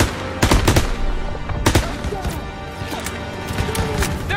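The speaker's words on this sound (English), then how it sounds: "Come on, they need cover fire. Suppressive fire. Keep firing." Rapid gunfire in a Call of Duty WW2 battle, several loud bursts of shots with sharp cracks around half a second and 1.7 seconds, then continued scattered firing and crashes under the din of combat.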